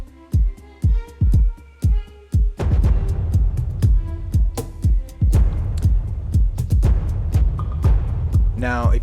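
A looping beat of deep thumping hits with plucked, twangy Middle Eastern-style guitar notes over it and violins, rhythmic and loud, with layered accompaniment building after the opening bars.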